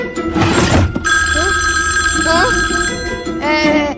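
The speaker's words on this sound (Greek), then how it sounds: "Άκουσα το τηλέφωνο να χτυπά." A loud electronic telephone ring with a bright trilling tone, sounding in repeated bursts close by, with a brief burst of noise at the start.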